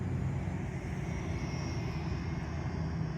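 Volantex 500 Cub RC model airplane flying a pass at about 30% power, its electric motor and propeller giving a steady, moderately loud drone throughout with no talk over it.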